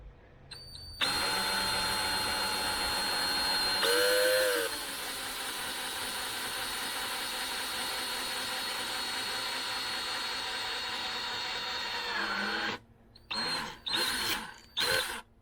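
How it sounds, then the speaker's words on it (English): A power drill whines steadily at close range for about twelve seconds, pitch dipping briefly under load, then stops and restarts in several short bursts, the drill kept running while being pulled out. "you also want to have the drill running when you're pulling it out"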